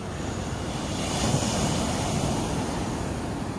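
Ocean waves breaking on a beach at night, a steady, broad wash of surf heard from a short distance, moderately quiet, with light wind noise across the microphone and no voices.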